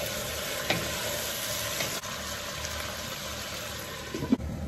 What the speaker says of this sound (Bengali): ঢাকাটা উঠিয়ে আবার একটু নেড়ে ফেলে দিব।